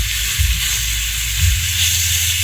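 Pork sautéing in a pan, a steady bright sizzle filling the clip with low bumps of stirring underneath, close and loud, no voice over it.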